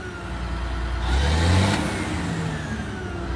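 A bulldozer's diesel engine runs and swells as the throttle is pushed, rising to a loud rev and easing back to a steady drone, with no talking.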